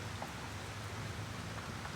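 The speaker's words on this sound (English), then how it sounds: "Look at this rain out here in Detroit." Rain falls steadily at night in Detroit, a dense, even hiss of drops with a low rumbling undertone, fairly quiet and without any voices.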